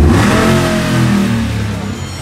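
A high-mileage 6.2-litre Ford Raptor engine revs hard up close, a loud, dense mechanical roar holding steady and then easing slightly. No voices are heard.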